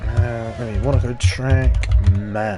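Computer keyboard typing clicks along softly in the background while a commentator talks continuously over a sim racing league broadcast at Monaco.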